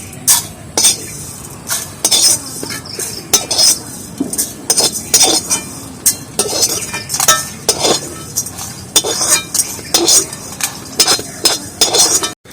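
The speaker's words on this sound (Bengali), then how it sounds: "এইভাবে বাটিতে কাটিয়ে কাটিয়ে তুলে নিচ্ছি।" Fried seeds such as nigella and fenugreek being scooped from a hot pan into a bowl, with repeated sharp metallic clinks and scrapes of a spoon against cookware in an irregular rhythm, close and loud.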